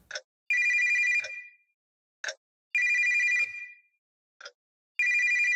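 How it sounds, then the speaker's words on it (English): A telephone in the spooky mansion of the game Votum rings in loud, steady electronic trills, each about a second long with a short gap, three rings in total, with no voices over them. "Phone call."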